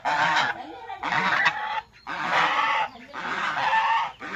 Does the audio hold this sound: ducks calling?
yes